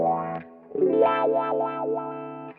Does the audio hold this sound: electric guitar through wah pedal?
yes